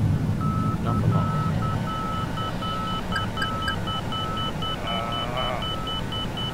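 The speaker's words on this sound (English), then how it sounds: "I got all these alarms going off and I've clicked a button." Repeated electronic alarm tones sound from the cockpit of a Flight Factor A320 in the X-Plane 11 flight simulator, steady beeping chimes in a regular pulsing pattern over a constant low background hum.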